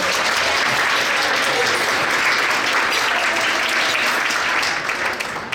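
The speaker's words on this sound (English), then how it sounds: "Just give them a little round of applause." Sustained, loud round of applause from a banquet crowd for the hosting club, dense steady clapping filling the room for several seconds before starting to thin out at the end.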